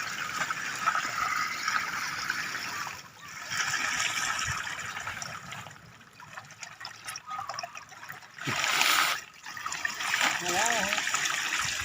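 Water from a solar-powered fountain trickles and splashes steadily into an earthen pond, with a surge of gushing partway through and voices talking over the flow.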